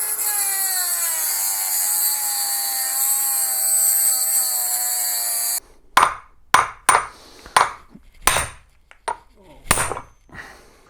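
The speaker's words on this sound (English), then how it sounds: "I'm going to cut this race off with a little Dremel" A Dremel rotary tool cuts off a rear wheel bearing race on a BMW E36, a loud, steady high-pitched whine for several seconds, then a run of sharp metallic taps and knocks.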